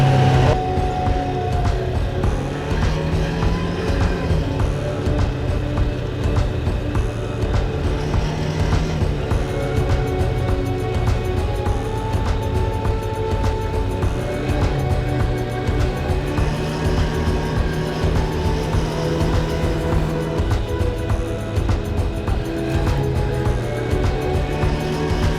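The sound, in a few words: ATV engine while riding through valley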